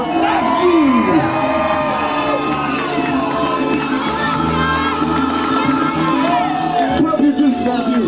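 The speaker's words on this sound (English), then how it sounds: "make some noise for your guest of honor. Give it up for Matthew." A party crowd at a bar mitzvah in a Delray Beach venue cheers, whistles and shouts loudly and continuously for the guest of honor, with children's shrieks mixed into the roar.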